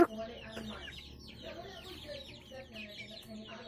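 Basilan breed chickens clucking in a yard, a loose, continuous chatter of several birds at close to middle distance, with faint background noise.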